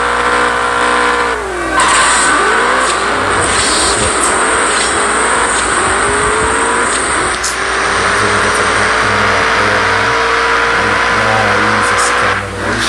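Car engine revving hard through a drag race replay in the CSR2 racing game, a loud sustained roar with rising pitch sweeps at gear changes and a brief drop near the end.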